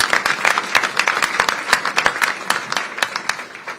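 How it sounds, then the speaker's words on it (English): A round of applause at a housing roundtable, a modest group clapping with distinct, separate claps in an uneven rhythm, fairly close and lively, with no talk over it. "that deserves a round of applause"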